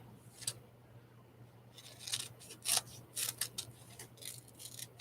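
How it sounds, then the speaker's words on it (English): Scissors snip around a paper collage image in a run of short crisp cuts, some in quick clusters, close-up over a low steady hum, with no speech. "So we're going to fussy cut this one out."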